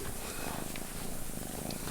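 A young kitten purrs close up, a steady soft rumbling drone that runs unbroken and fairly quiet throughout, with no voices.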